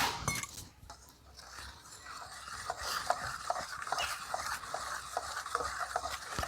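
A whisk working through thin dosa batter of rice flour and besan with water in a bowl, steady wet scraping and clinking strokes that continue evenly and close up, with no talk.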